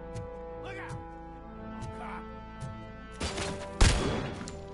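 Gunfire in the video game Robocop: Rogue City, a few sharp shots spaced apart and then a louder cluster of blasts near the end, set against a steady game music bed.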